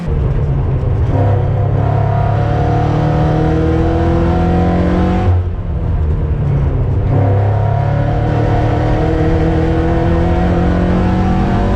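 Cars in an endurance race, among them a Porsche 944 and a BRZ, roar loudly from inside the cockpit, with the engine droning and shifting pitch through gear changes and a brief lift off the throttle.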